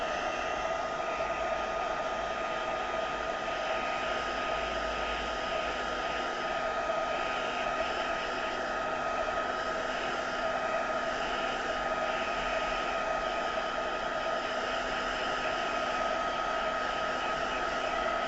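A hair dryer blows steadily over an ink artwork, a constant, moderately loud whirring hiss with a steady motor tone that holds unchanged throughout, with no voices over it.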